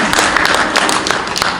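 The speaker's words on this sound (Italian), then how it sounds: "Sì, applaudite pure." Audience clapping at an outdoor poetry reading in Mestre, a brief burst of scattered applause with separate claps standing out, fairly close and steady for under two seconds.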